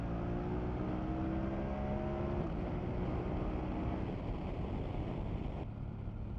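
A 2024 BMW F900 GS motorcycle engine revs while riding, a loud, steady drone climbing in pitch and then dropping at a gear change, heavy wind rush over everything and no talking.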